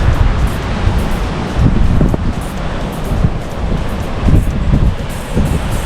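Surf breaks steadily on an ocean shore in Kalinago Territory, with wind buffeting the microphone throughout and waves swelling and washing in a continuous loud roar, no voices.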